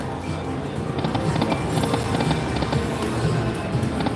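Electronic horse-galloping effect from a slot machine at the Yaamava Casino: quick, steady hoofbeat clip-clop over a busy casino hum, at moderate loudness.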